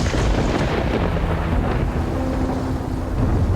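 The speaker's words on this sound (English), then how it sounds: "It's really storming. Look at the lightning." A loud, rolling rumble of thunder over steady heavy rain and wind, a dense continuous storm roar with no voices.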